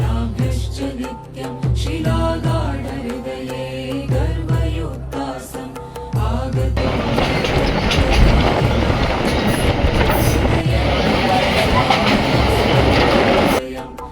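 A train pulls into a railway station at Chandpur Boro Station, starting with loud low rumbles and thuds, then settling into a steady, close rolling clatter of railcars that lasts until near the end, with some voices audible at the start.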